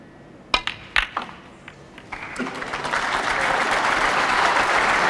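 Snooker crowd at the 2011 Masters final breaking into applause: a few isolated claps first, then a broad, steady round of clapping that swells and holds to the end.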